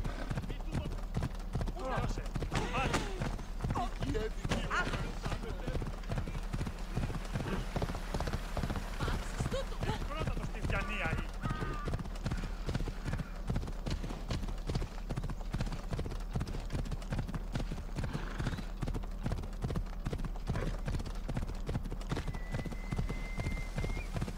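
Horse hooves clip-clop at a steady trotting rhythm in Assassin's Creed Odyssey, near and continuous over rain-like ambience, with someone speaking intermittently over it.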